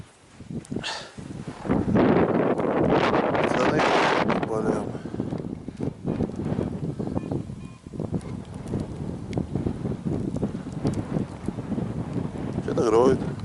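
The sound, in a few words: strong wind blowing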